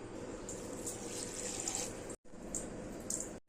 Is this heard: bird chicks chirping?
no